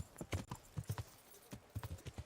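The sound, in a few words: horse galloping hooves in town, video game Kingdom Come: Deliverance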